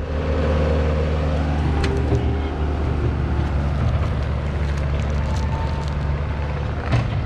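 A Bobcat skid steer's diesel engine runs at a steady idle while warming up on a snowy mountain, a loud continuous low rumble with a few faint clanks and no talking.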